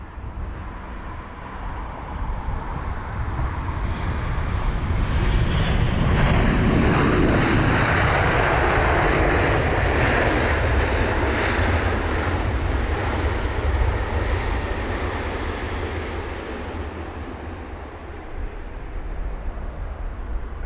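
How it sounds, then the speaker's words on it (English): A United Boeing 767-300ER lands, and its loud reverse thrust swells into a broad roar that peaks midway and slowly fades, heard from an airport viewing spot. "And the reverse thrusts on that 767 are so loud, they really are."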